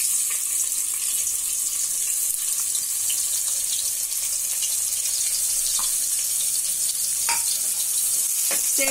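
Chopped onions sauté in hot oil in a pan for chickpea kurma, a steady bright sizzle and crackle with occasional stirring clinks, heard close and alone.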